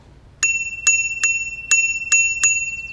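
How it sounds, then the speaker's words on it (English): A bicycle bell rings six times in quick, bright dings, evenly spaced, close and clear against a quiet background. "This bike is also equipped with a bell."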